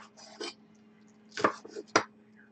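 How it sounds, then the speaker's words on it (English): A knife chops green onions on a cutting board in a few sharp, separate strikes, close and fairly quiet, with near silence between them. "Green onions, in my opinion, are very hard to cut."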